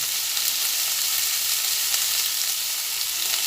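Bottle gourd peel kofta mixture fries in a pan, giving a dense, continuous, even sizzle that holds close and steady with no voices and no clear breaks.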